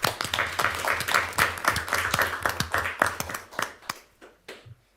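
Audience at a council meeting giving a round of applause, a close burst of hand clapping that starts strong and thins out into a few scattered claps.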